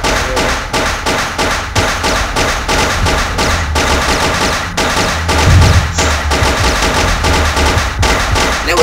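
Continuous rapid pistol fire from the Box Head zombie game, a dense, even stream of sharp loud shots with a few heavier thuds mixed in.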